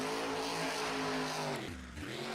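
The Gravedigger monster truck revs its engine during freestyle in an Anaheim arena, a loud sustained roar with harmonic pitch that dips briefly and then climbs again.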